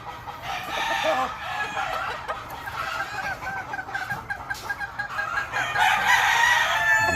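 Gamefowl roosters at a gamefarm's breeding pens crow repeatedly, several birds overlapping near and farther off, with scattered clucks in between and no talk.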